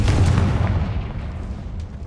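A Confringo spell explosion in the video game Hogwarts Legacy: a loud, deep boom at the start that rumbles and slowly fades over about two seconds.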